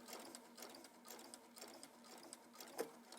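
A sewing machine stitching a jeans waistband at a slow pace, its soft, even, rhythmic mechanical whirr running continuously and faintly in close range, with no talk over it.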